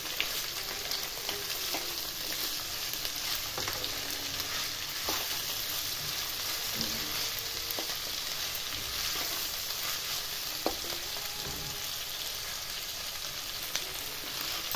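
Onion, green chilli and peas frying in a pan, a continuous quiet sizzle broken by occasional scraping stir strokes, heard close with no voices.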